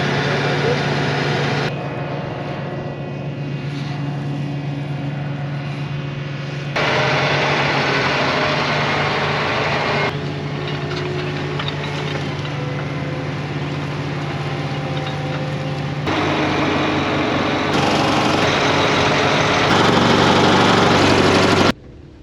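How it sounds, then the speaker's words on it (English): A tractor's engine runs steadily through its exhaust filter cleaning cycle, a continuous droning idle with a low hum that shifts slightly in pitch and intensity over the stretch, with no one talking. "tractor went through the whole exhaust cleaning process, all 3 steps, and it never aborted"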